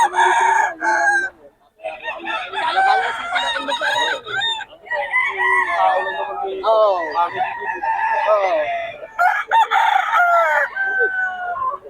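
Several gamefowl roosters crow repeatedly, close and loud, overlapping one another throughout a busy gamefowl sale, with scattered clucking between the calls and little audible talk.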